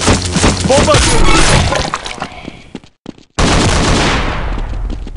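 A grenade blast in Counter-Strike's Zombie Escape mod, on the ze_dark_surf_dpfix map, comes as a loud, dense burst of shattering noise mixed with rapid gunfire, cuts out briefly, then surges back at full volume.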